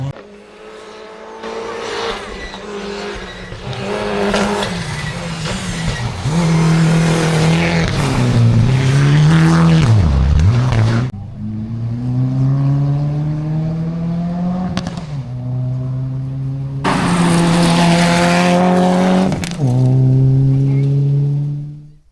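Rally cars race through the Gympie forest stages of Rally Queensland, engines roaring loud and close as they rev, shift and pass, with a brief lull before another car blasts through; faint voices sit underneath.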